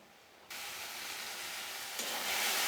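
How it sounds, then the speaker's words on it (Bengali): Spice masala for a spicy puti fish curry fries in oil in a pan, a steady close broadband sizzle that starts abruptly and grows slightly louder near the end, with no talking. "আমার সুন্দর মতো কষানো হয়ে গেছে মশলা থেকে সুন্দর তেল বেরিয়ে এসছে"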